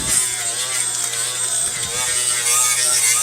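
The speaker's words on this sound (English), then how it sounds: "It's basically a Scotch Brite on a roll lock, and I set the speed down on it." Air tool spinning a Scotch-Brite Roloc disc at low speed, scrubbing the gasket surface of a Ford 289 engine during teardown, a continuous high whirring grind with a rough, rasping texture, close and steady throughout.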